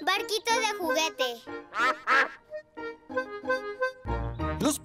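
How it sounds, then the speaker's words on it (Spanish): Cartoon ducks quack in a quick run of short, nasal calls, close and clear, with a voice speaking briefly near the end. "Los patos nadan en su estanque."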